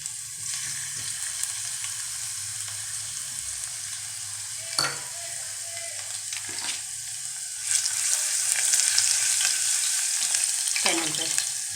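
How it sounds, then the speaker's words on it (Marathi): Garlic and ginger paste fries in hot oil, a steady loud sizzle running throughout with a few stirring scrapes and knocks, the hiss briefly swelling brighter near the end. "तेलात आपलं गरम झालेले, त्याच्यात ही लसणाची पेस्ट आहे, लसूण आणि आलं, ते आपण त्याच्यात टाकू"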